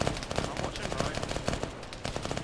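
Rapid automatic gunfire in Arma 3 on the Tanoa map, a loud, dense string of close shots that continues without a break for a couple of seconds.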